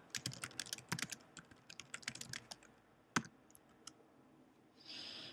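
Code is typed into an Excel formula on a computer keyboard as quick, irregular clusters of soft key clicks, with one sharper isolated tap and a brief hiss near the end, quiet and without talk.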